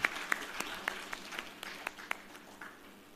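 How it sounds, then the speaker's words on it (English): Sparse, quiet clapping from a small audience at a carbon markets conference panel session, individual claps landing in a loose, fairly regular rhythm with no crowd roar. "I believe we can have a big round of applause one more time"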